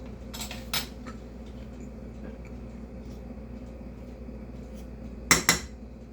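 A spoon mixes cake icing with vanilla in a bowl, making two brief clusters of metallic clinks and scrapes, one early and one near the end, over a quiet kitchen background.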